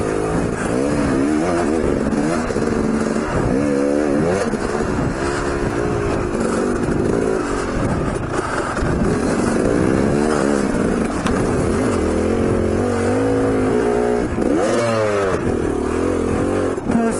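A motorcycle ridden on a group ride on the Twister route, its engine droning loud and close throughout with shifting revs and gear changes, no talk over it.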